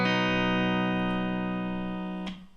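A single sustained electric guitar note rings out clean and steady, slowly fading before an abrupt cut near the end, taken from the opening line of a guitar solo.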